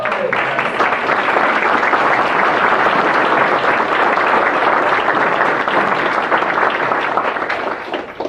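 A luncheon audience at an awards event claps steadily for about eight seconds, a full, even wash of applause that tapers slightly at the end.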